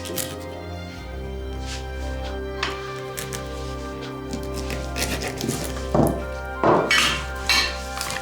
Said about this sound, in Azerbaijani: Mən qabları götürüm.